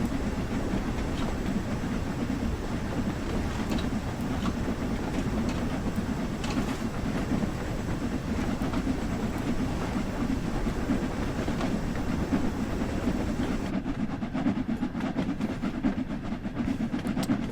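A single steam locomotive working uphill gives a heavy, continuous rumble and chugging roar with steady hiss, loud and close throughout.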